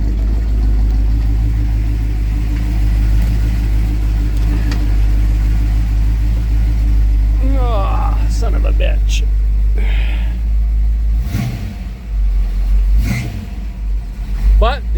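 A 1967 Plymouth Barracuda's 340 V8 engine with new exhaust idles with a deep, steady rumble, then revs briefly a couple of times near the end; a person talks over it.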